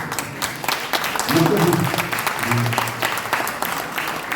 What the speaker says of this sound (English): The applause from my mom.